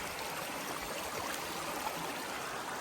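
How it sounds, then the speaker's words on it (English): A brook spilling down a small rocky water feature beside a hiking trail, a steady close rush of flowing water with no break, loud and alone throughout. "brook water feature coming down"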